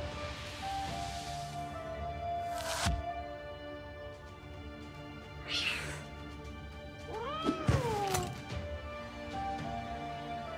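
A cat meows in the video game Black Book, a few distinct, fairly clear meows over a quiet steady game ambience, with soft clicks and rustles between them.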